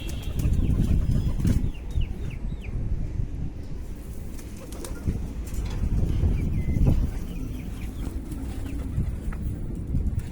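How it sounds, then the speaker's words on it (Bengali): A flock of pigeons, including Siraji, Giribaz, Chila and Sabuj Golla breeds, flaps and bustles close by. Bursts of wingbeats mix with soft cooing over a continuous background of movement. "ডাক দে কবুতরগুলো সব।"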